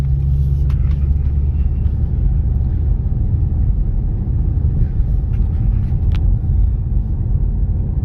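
A 2013 Mustang 5.0L engine running on a cold start, a loud, steady, deep rumble close by that holds even throughout with a few faint clicks on top, no talk.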